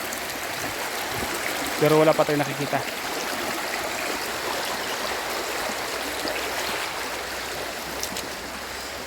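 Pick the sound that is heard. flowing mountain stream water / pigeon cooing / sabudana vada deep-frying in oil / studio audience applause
flowing mountain stream water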